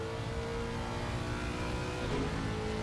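Ferrari race cars howl along the Nordschleife in a racing video game, a steady, continuous engine drone that holds at an even level throughout.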